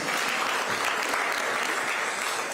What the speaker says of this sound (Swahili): Haya, tumpigeni makofi, zawadi ataipata.